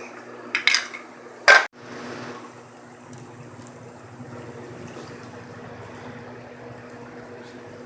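Water poured into frying masala for egg curry: a couple of sharp utensil clanks against the pot, then a low, steady bubbling simmer that carries on alone.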